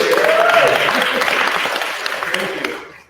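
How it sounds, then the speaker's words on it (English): Audience applause greeting a tech speaker from Zed Industries at a conference, a dense wash of clapping at steady volume for about three seconds before tapering off; a brief whistle-like tone rises early on. "So, round of applause"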